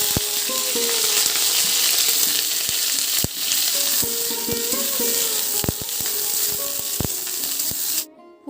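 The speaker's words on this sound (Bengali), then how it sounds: "ফুলকপিটা দেখো ভালো করে ভেজে নিয়েছি" Cauliflower pieces fry in hot oil in a home kitchen for a vegetarian curry, giving a steady, close sizzle with occasional clinks and scrapes of stirring. No one speaks.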